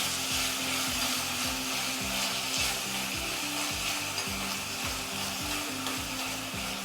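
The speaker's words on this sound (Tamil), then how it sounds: "இப்போது இது எல்லாமே சேர்த்து நல்லா வறுத்துக்கலாம்." Chopped apple and mixed fruit fry in a pan for kesari, giving a steady close sizzle with a rhythmic scraping stir repeating throughout, no voices.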